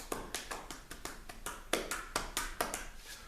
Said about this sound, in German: dann kann ich nochmal so den ganzen Fuß entlang und ein bisschen hier klopfen